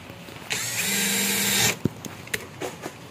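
A power drill drives a screw into a casement window's 4-bar hinge in one close, whining burst lasting about a second. Sharp clicks and light handling knocks follow.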